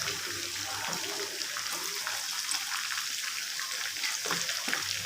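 Chicken deep-frying in hot oil at home, a steady close crackle and hiss running throughout without pause.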